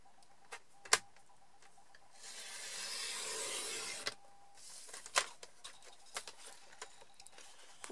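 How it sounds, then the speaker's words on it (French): A paper trimmer cutting a card diagonally for a Z-fold Christmas tree card: a quiet click, then a smooth two-second sliding rasp of the blade across the card, followed by a few soft taps and handling clicks. "je vais reprendre mon massicot et cette fois-ci, je vais découper en diagonale"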